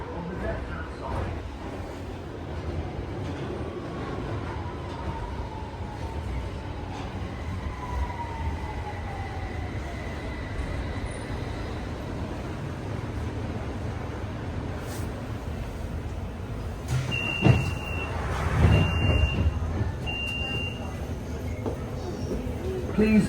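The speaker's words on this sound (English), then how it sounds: "This is a Central Line train to Epping." A refurbished 1992-stock Central Line train on the London Underground runs with a steady, loud rumbling drone throughout, faint high squeals from the wheels, and a few short beeps near the end.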